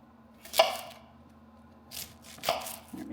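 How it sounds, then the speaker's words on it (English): A knife cutting through vegetables on a board in a home kitchen, trimming the ends and halving them: two or three crisp, close chops spaced a couple of seconds apart over quiet room tone. "You just cut the ends off and then cut them in half."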